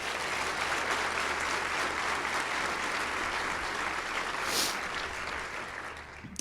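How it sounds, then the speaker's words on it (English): A keynote audience at a business conference applauds the hotel kitchen staff, a full, sustained roar of clapping from a large room that stays loud for several seconds before easing slightly. "So if y'all want to clap really loudly for those folks."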